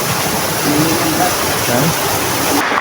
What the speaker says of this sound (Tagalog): So, ito na yung unang falls.